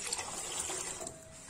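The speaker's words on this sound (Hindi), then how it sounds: "7 से 8 ग्लास हम पानी डाल रहे हैं" Water pours steadily from a glass into a pot of dal on a gas stove in a home kitchen, a continuous splashing rush that runs through without pause and no voices.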